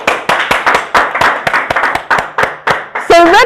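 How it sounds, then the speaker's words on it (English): Sharp clapping comes from an audience in a lecture setting, rhythmic and fairly close, with a voice breaking in at the end. "Let's clap for Red Arrow."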